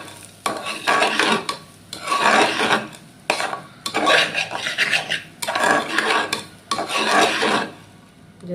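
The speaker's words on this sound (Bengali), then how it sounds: "চাউলটা আমি নাইরা নিব" Rice is stirred and fried in a pot for mutton biryani, with repeated rhythmic scraping strokes of a spoon against the pot, close and clear, pausing briefly between sweeps.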